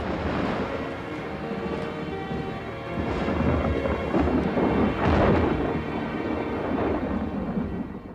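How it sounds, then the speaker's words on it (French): A thunderstorm in a French drama film, with a dense, continuous roar of heavy rain and rolling thunder that swells and peaks near the middle before easing slightly. No voices are heard. "Tu restes pas pour regarder l'orage?"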